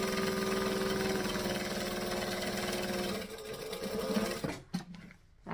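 A sewing machine runs fast and loud while back stitching a fabric panel, a dense mechanical whirr that slows and breaks into a few uneven stuttering bursts before stopping.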